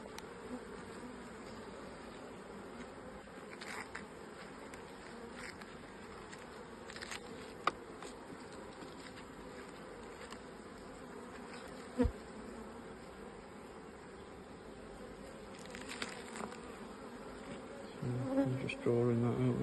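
Honeybees buzz steadily around an open beehive checked during an inspection, a soft continuous drone with occasional clicks and a few louder bumps near the end.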